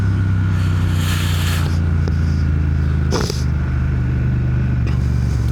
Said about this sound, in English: It just sounds a lot better. So I think I'll just leave the exhausts the way they are.